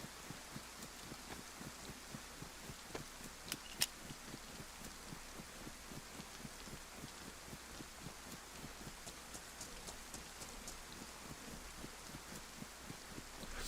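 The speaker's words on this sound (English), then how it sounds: "Rain is a very cool thing in this game, as you can see." Steady rain falls in the DayZ survival game on Chernarus, a dense even patter of drops throughout with no talk, only faint rustling beneath.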